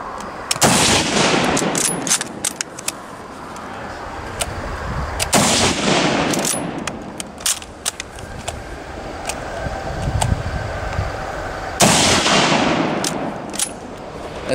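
Old rifles firing at an outdoor machine gun and Tannerite shoot in Red Wing, Minnesota: loud, close, sharp reports spaced several seconds apart, with faint crackle of other shots between them.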